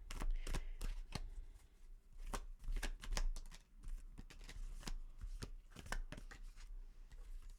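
Tarot cards being shuffled, with faint irregular riffles and light taps close to the mic over a low rumbling background.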